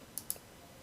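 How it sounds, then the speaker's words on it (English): Two quick, faint computer mouse clicks in close succession in a quiet room. "Let me click on that."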